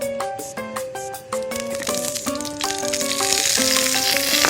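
Spicy pork ribs marinated in omija sauce sizzling in a pan, a loud, steady frying crackle that swells over a few seconds beneath tonal music.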